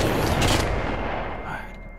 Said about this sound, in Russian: Надо палить по ним